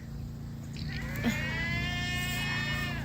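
Goats on a homestead farm at milking time: one drawn-out, wavering bleat rises over a steady low background hum, fairly close and unaccompanied by talk.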